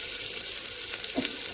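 Garlic and chillies fry in butter in a pot, a close, steady hiss of sizzling with a brief stirring scrape partway through and no talk.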